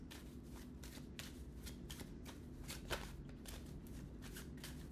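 Tarot cards shuffled by hand give a steady, soft riffling and slapping that runs throughout, quiet and close, with no speech over it.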